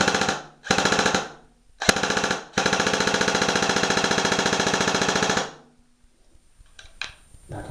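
G&G M16 Carbine airsoft gun firing full auto, several rapid mechanical bursts with short gaps and then a long sustained burst, loud and close, ending in quiet clicks.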